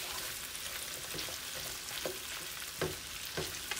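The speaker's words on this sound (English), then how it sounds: "toss them sausages around with these taters" Smoked turkey sausage and potatoes sizzle steadily in a frying pan while being tossed and stirred, with a few louder scrapes and clunks from the utensil over the constant hiss.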